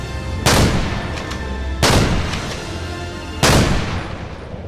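Three loud, booming gunshots in an audio drama, each a sharp crack followed by a long decaying tail, spaced about 1.5 seconds apart.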